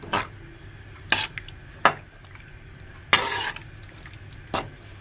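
Manchurian sauce thickening in a pan, stirred with a utensil in sharp scraping clinks and taps about once a second against a quiet background of faint bubbling.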